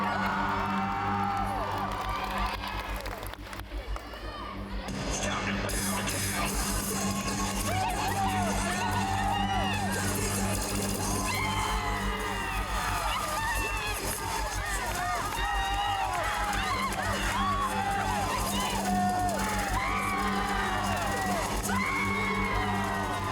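A crowd at a cheerleading competition cheers, whoops and shouts encouragement throughout a routine, a loud and steady wash of voices with excited yells rising above it.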